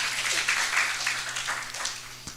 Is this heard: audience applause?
yes